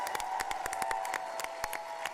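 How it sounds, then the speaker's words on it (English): Audience clapping at a baking contest for the contestants, held at the PAX South 2020 convention: a scattered run of sharp claps from a modest crowd, steady through the moment, with a faint voice underneath. "Round of applause to them."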